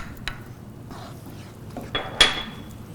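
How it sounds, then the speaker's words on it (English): A whisk works butter and cheese into rice in a pan, giving a few light metallic clinks and soft scrapes against a quiet background. "We add the butter inside, we whisk it."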